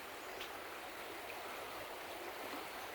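Soft, steady rush of flowing water from a small creek at a campground on Route 101 in Oregon, faint and continuous with no other sounds.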